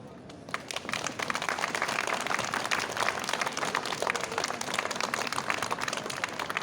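A crowd at a street demonstration in Limoges in support of the Palestinian and Lebanese people breaks into applause, a dense, steady patter of many hands clapping that continues for several seconds after a brief quiet start.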